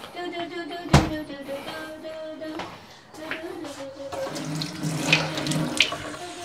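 Water running from a bathroom tap while someone washes their face, a steady splashing stream with a sharp knock near the start and hands sloshing in the flow, close by.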